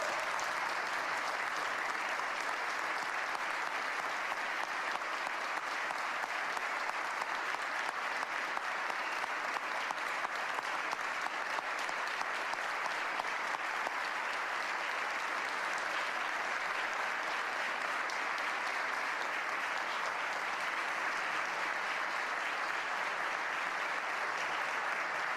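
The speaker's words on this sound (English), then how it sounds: "Let's give them all a round of applause." An audience applauding during a governor's state budget address, a long, even wash of dense clapping from a large crowd that holds steady and full for the whole stretch.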